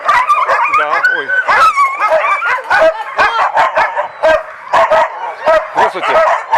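Many dogs at a shelter for stray animals in Yakutsk bark, yip and whimper loudly and close by, overlapping continuously while people talk over them.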